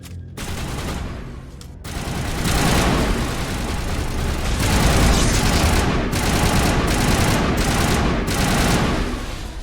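Automated turrets in the Mass Effect 1 Legendary Edition game fire continuously in loud, dense bursts of gunfire, an unbroken rattling barrage lasting several seconds with no talk.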